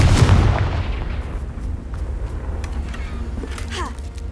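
A Confringo blast spell from Hogwarts Legacy opens with a loud booming burst, then a lingering rumbling tail fades under faint crackles and a brief voice near the end.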